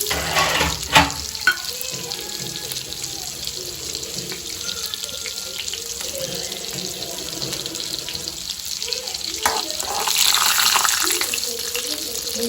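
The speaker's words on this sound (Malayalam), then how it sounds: "അപ്പൊ നമ്മൊരു പാത്രത്തിൽ നെയ്യ് ഒഴിച്ചിട്ടുണ്ട്. നമുക്ക് അതിലേക്ക് കാഷ്യൂ വറുത്തെടുക്കാം." Cashews frying in ghee in a pan give a steady close sizzle with a few sharper pops near the start and a brief louder surge toward the end. There is no speech.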